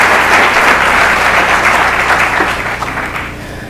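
A college meeting audience applauds staff members, loud dense clapping that holds steady and then gradually tapers off near the end.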